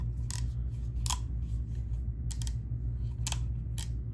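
Sharp plastic clicks from an Andis Phenom hair clipper as its blade snaps on and the lever is flicked, half a dozen crisp, close snaps spaced irregularly over a quiet hum.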